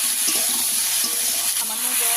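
Water splashes into a pan of fried taro and potatoes with ginger, turmeric and chili powder for a mrigal fish curry, a brief soft hiss and trickle.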